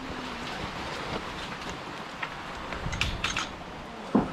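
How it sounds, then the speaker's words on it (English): A soft, steady hiss of rain falling at the Crater of Diamonds, with a few faint taps and knocks near the end. "Oh, you can hear the rain."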